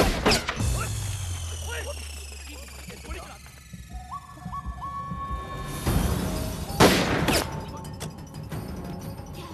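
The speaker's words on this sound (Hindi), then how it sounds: "दूसरी तरफ से भी गोलियां बरस रही है।" Sharp bursts of gunfire crack out in a Hindi film scene, with a loud crash early and heavy volleys near the end, over rumbling background noise.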